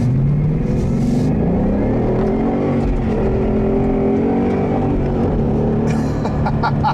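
A 2015 Ford Mustang GT accelerates hard on the road, its engine a loud, steady roar whose pitch climbs through the gears for the whole stretch, with no talking.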